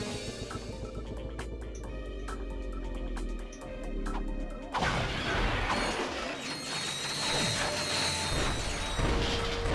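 A turret weapon firing at enemies in Ratchet and Clank 2, played on the RPCS3 emulator: rapid mechanical clicks and ratcheting ticks, then a sudden crashing burst that gives way to a denser clatter of impacts and debris.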